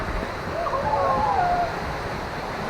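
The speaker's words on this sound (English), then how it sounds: "The world's largest family water slide." Rushing water roaring steadily around riders on a family water slide, a continuous close wash of noise with a faint voice-like cry rising briefly through it.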